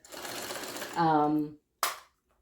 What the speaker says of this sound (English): I'm sewing 1/8 of an inch from the inside seam